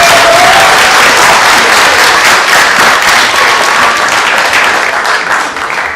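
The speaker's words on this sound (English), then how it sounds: "a round of applause for Rachel," Loud, sustained applause fills a wedding reception for the bride, dense clapping from a large crowd lasting several seconds close by and tapering only slightly at the end.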